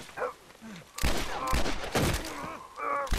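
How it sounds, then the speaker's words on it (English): Gunfire in the video game The Last of Us crackles in quick bursts among game sounds, with a faint groan or voice early on. "I'm gonna shoot you with the gun."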